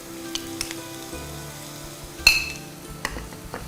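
Cabbage dropped into a hot pan of cooked carrots for an iftar stir-fry, giving a sudden loud sizzle burst with clinks of utensils against the pan over a steady low frying hiss.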